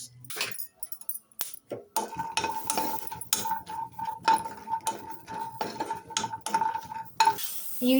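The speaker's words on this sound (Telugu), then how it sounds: "ఈ విధంగా అయితే మనం పచ్చిమిర్చిని కూడా వేయించుకొని స్టవ్ ఆఫ్ చేసుకొని పక్కన తీసేసుకోవాలి." Green chillies frying in a kadai after peanuts for radish chutney, with spoon scrapes and metal clinks against the pan over a light sizzle and a faint tone, in close irregular bursts without talk.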